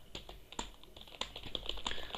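Urdu is typed on a computer keyboard as a quick, uneven run of light key clicks, close and fairly quiet, with no voices.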